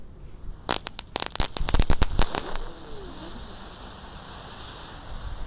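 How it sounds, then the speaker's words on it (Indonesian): A rapid burst of sharp pops and crackles from spinning three-colour firecrackers going off over a couple of seconds, followed by a fainter whirring hiss as they spin. "Lanjut kali ini kita nyalakan mercon gangsing super 3 warna."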